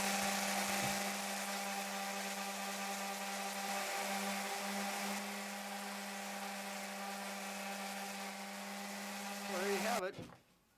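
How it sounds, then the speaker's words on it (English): Electric sander smoothing a lathe-turned wooden sock darner, a steady high whine holding for about ten seconds before cutting off abruptly near the end. "Now I'll smooth that off with a sander, likewise with the handle end."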